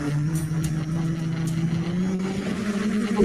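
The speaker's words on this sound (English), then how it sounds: "Roman and his dad set their engine going" A remote-controlled model helicopter's small engine running steadily nearby, a loud buzzing drone with a slowly rising pitch, without pauses.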